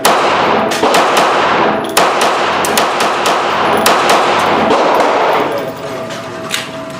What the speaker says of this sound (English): next up I'll be shooting a full 30 round magazine of Hornady Critical Defense